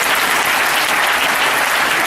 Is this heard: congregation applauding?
yes